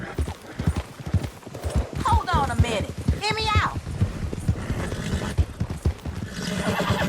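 A horse in Red Dead Redemption 2 clip-clops along with quick rhythmic hoofbeats and lets out a couple of whinnies, close up, while someone talks over it.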